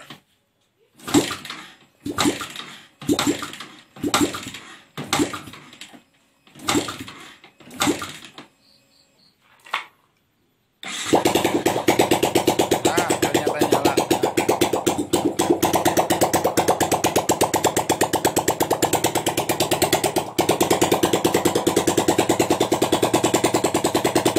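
A Yamaha Vixion motorcycle with a hard-starting fault is kick-started, giving about eight spaced cranking bursts of the kickstarter. After a short pause the engine catches at about eleven seconds and runs on loudly in a steady, buzzing idle with no talk.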